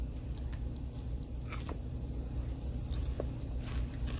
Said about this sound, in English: Sorry, I'm chewing.